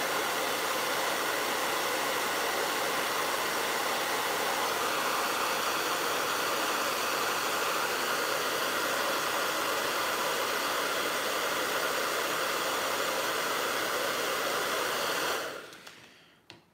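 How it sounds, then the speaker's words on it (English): A hairdryer blows hot air onto a plastic action figure in a loud, constant whoosh that runs steadily for about fifteen seconds, then cuts off abruptly and falls silent. "heat this puppy up since I got the hairdryer right here"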